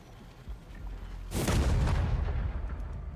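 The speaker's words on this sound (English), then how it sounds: "That explosion was surprisingly not painful for me." Sudden explosion in the video game Crashlands 2 as an extractor blows up, a loud booming burst that hits after a quiet stretch and rumbles on with crackling debris.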